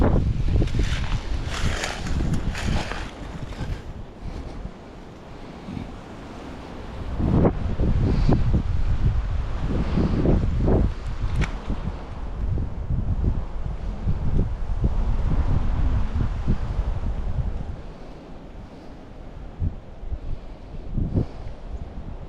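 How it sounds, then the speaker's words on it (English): Strong wind gusts of about 25 buffet the microphone outdoors on a spring bass-fishing outing, swelling and easing in loud rumbling waves with faint rustling. "We got wind gusts about 25 today."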